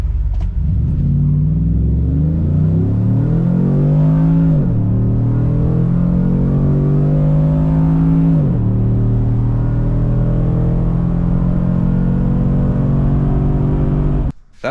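A Chevrolet Silverado with a swapped-in 6.2 engine revs through wide open pulls in 4 auto, loud and close, its pitch climbing steadily and dropping at each of two upshifts before pulling hard again, with no talk.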